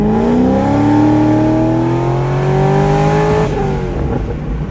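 A C6 Corvette V8 fitted with long tube headers revs up loud and close, pitch climbing steadily over several seconds before easing off slightly near the end, no talking.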